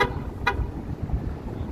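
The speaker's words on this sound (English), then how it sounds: "Is he honking at me?" A car horn honks once, short and sharp, on a downtown Toronto street during a mild afternoon, rising clearly over steady traffic rumble.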